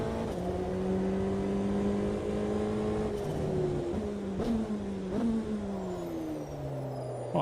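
An LMP prototype race car in a sim racing game drones steadily at high revs throughout, its pitch sliding down with a few sharp shifts as the car brakes and changes gear, loud and continuous with no talk.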